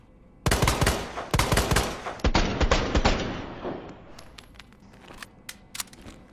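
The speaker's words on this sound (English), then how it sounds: "So yeah, 3-round burst fire, very low recoil and high stability, and a fast reload" A stocked Matilda handgun in Resident Evil 2 Remake fires repeated three-round bursts, giving sharp, loud, close volleys in quick succession, then trailing echoes and a few faint clicks.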